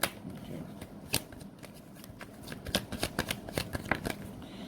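Tarot cards being shuffled up close, with a series of quick crisp riffles and flicks, sparse at first and then coming faster and denser toward the end, over a quiet background.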